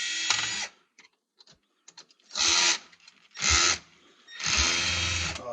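Screws are backed out of an old TV tuner in several close, loud bursts of whirring driver noise separated by brief clicks and quiet pauses.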